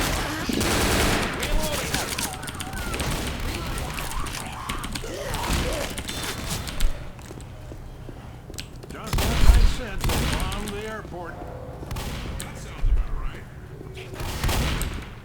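Gunfire in the Left 4 Dead zombie shooter, Dead Air campaign, with bursts of rapid shots and occasional heavier booms spread between stretches of excited talk from players.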